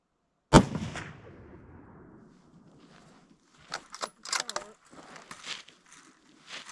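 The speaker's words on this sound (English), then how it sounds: "Double lung shot at 104 yards." One sharp, loud rifle shot cracks out at a mule deer buck about 104 yards away on a California hunt, followed by a decaying tail and then scattered rustling, brushy footsteps and faint movement nearby.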